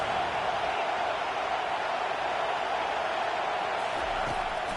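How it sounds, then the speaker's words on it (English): A dense, steady roar from a packed American football stadium crowd cheering on the home defense on third down, loud and unbroken throughout with no pauses. "Listen to this crowd just shaking the girders of this place trying to help their defense."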